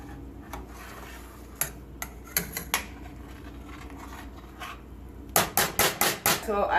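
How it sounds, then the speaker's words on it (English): A spoon knocks and scrapes against a pot while curds, whey and vinegar are stirred, scattered clicks at first, then a quick run of louder regular clacks near the end, close and without talk. "what I'm going to do is stir that together"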